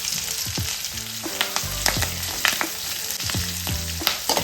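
Crushed garlic, with mustard seeds and curry leaves, fries in hot oil in a pan for mango pickle. The sizzle is close and steady, broken by several sharp metallic scrapes and taps of a spoon as it is stirred.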